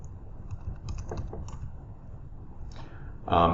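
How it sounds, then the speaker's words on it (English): Soft keyboard typing, a quick run of light clicks over a low background hum, ending in a slightly louder burst of keystrokes. "I can start typing in somebody's username."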